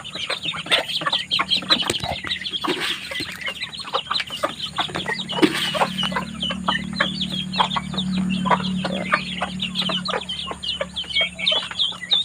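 Hens and chicks cluck and chirp continuously in a small backyard farm chorus, with peeping chicks mixed among steady hen clucks at close range.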